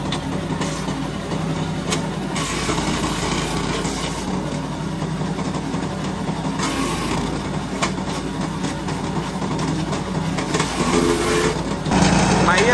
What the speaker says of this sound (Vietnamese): test máy băm cây Takeo TK65